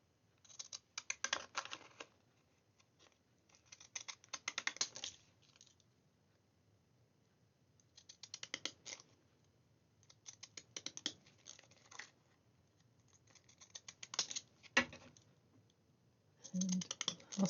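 Scissors make small snipping cuts in card in short clustered bursts separated by pauses. The cuts are quiet and close, and there is no talking.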